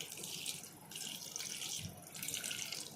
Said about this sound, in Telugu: వాటర్ పోస్తే ఎలా సౌండ్ వస్తుంది చూడండి